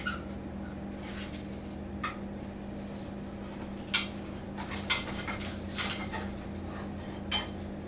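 Metal tongs clink and tap against dishes while prime rib is served, a handful of sharp, light metallic knocks spaced irregularly over a steady low background hum.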